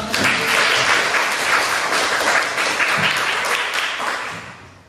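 Classroom students applauding together, a loud sustained wash of many hands clapping at once, steady for about five seconds before tapering off.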